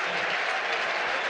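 A crowd at the World Ultimate Frisbee Championship final breaks into loud, continuous applause, a dense, even clatter of clapping that holds steady throughout.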